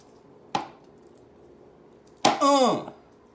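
A knife trims the ends off garlic cloves on a cutting board, giving one sharp close chop followed later by a second louder cut with a brief scraping tail, alone in a quiet kitchen.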